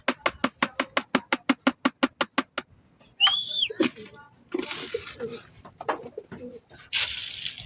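Pigeons gathering to be fed: a fast, evenly spaced run of about a dozen loud calling pulses, then a whistled sweep and soft cooing mixed with faint voices nearby.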